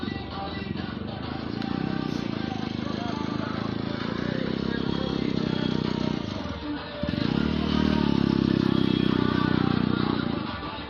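Motorcycles ride in a CPI(M) candidate's nomination rally through the streets of Islampur, a steady engine drone that rises slightly after a brief dip, close, with crowd voices and talk throughout.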